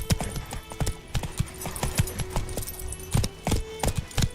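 Horse hooves clip-clopping in the video game The Witcher 3: Wild Hunt, a steady loud rhythm of hoof strikes with a jingling of tack over a constant background, no talking.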